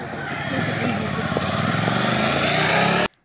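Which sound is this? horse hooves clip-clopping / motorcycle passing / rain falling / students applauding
motorcycle passing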